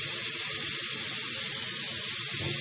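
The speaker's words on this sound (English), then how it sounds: "You got hear it sizzling" A steady, close hiss of sizzling while cleaning a Wii game disc near water, continuous and fairly loud, with no talking.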